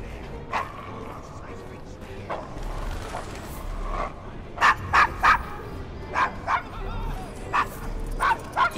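Several sharp dog barks in Assassin's Creed Syndicate, scattered at first, then a closer, louder run of barks, with people talking underneath and a low rumble in the background.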